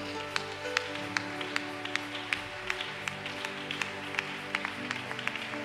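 A church congregation claps and applauds in a steady, moderately distant patter of hand claps, sustained throughout beneath a low hum.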